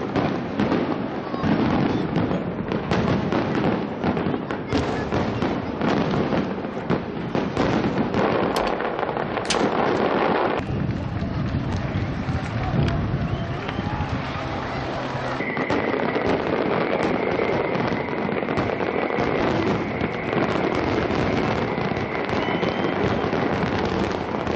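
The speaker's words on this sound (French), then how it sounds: "Je vous propose d'ailleurs de voir quelques extraits des plus beaux spectacles émis par ces spécialistes du feu d'artifice." A fireworks display fills the whole stretch with dense, continuous crackling and popping bursts, loud and unbroken, with a steadier tonal layer underneath in the later part.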